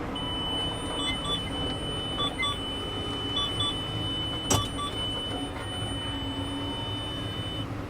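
A farm vehicle gives out a thin electronic warning beep during combine chasing, coming in short repeated pairs over a steady engine rumble, with one sharp click partway through.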